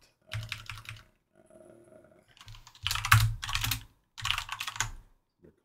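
Bursts of typing on a computer keyboard while an old server is shut down and a client program is rebuilt with make, with clusters of quick clicks separated by short pauses, close and fairly quiet.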